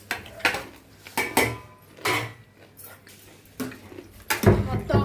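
Fish pieces and brinjal being mixed together in a pot for a curry, with several distinct metal clanks and scrapes of a spoon against the pot at close range, separated by short quieter gaps.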